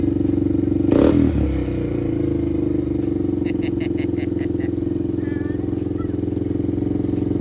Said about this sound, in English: Give it a rev, just a quick one.